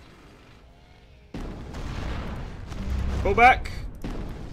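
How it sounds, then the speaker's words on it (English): Artillery fire in the strategy game Rise of Nations, heavy booming impacts and rumbling blasts arriving after a quiet start, with a voice speaking over them. "Oh dear God, he's got artillery."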